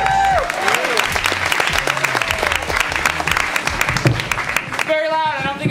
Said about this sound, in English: So please give it up for Drew Bixby.